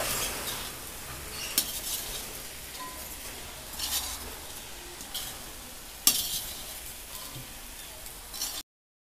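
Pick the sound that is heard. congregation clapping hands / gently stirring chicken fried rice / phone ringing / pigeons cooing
gently stirring chicken fried rice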